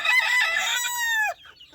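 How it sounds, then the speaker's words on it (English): A white rooster crows once, close and loud, a strained cock-a-doodle-doo that holds a high note, then breaks off into a brief low cluck. "Yes, Mr. Rooster"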